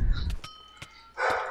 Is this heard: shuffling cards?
no